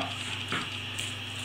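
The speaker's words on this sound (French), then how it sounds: "je mélange de façon à obtenir une préparation bien lisse" A spoon stirs cake batter of eggs, sugar and yogurt for an apple yogurt cake in a bowl, giving a steady wet swishing close up with a brief scrape partway through.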